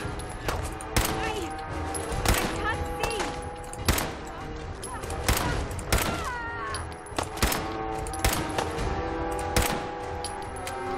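Gunfire from the game Fallout 4 during a fight with raiders: repeated loud bursts of shots and rapid fire over a steady ambient bed, mixed with character voices and grunts.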